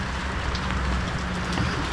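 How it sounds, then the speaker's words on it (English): Rain drumming on a van roof and body, a steady dense wash of patter heard from inside, close and continuous with no talk over it. "It's honestly been kind of fun just working in the van in the rain."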